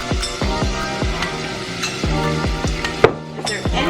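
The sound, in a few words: diced onions frying in butter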